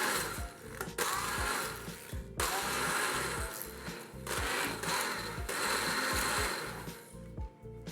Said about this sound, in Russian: перебиваем блендером в пюре